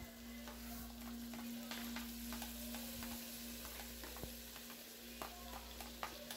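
Tomatoes, garlic and onions sauté in a pan with a steady sizzle and occasional stirring scrapes, heard close and alone over a low continuous hum.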